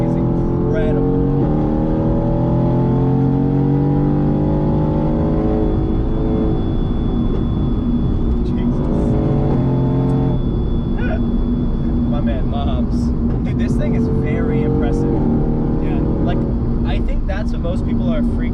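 A Mercedes-AMG GT sports car driven hard, heard from inside the cabin as a loud, continuous engine drone that rises and falls in pitch while people talk over it throughout.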